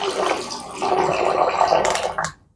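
Water is let out through an enema tube when its flow clip is opened, giving a steady close splashing rush that runs for about two seconds and then stops abruptly.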